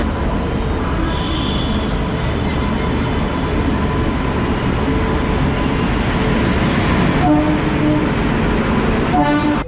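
At Pune railway station, a passenger train rumbles steadily and loudly past or alongside, with rolling wheels and a horn toot near the end.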